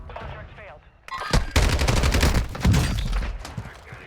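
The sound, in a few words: Lachmann 556 gunfire in video game Warzone 2.0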